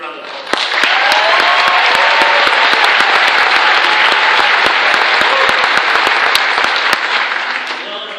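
Sustained applause from a large graduation ceremony audience, dense continuous clapping at steady volume throughout, with a few voices faintly mixed in.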